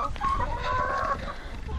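Homestead chickens cluck close by in a short, continuous burst, with no talk over them.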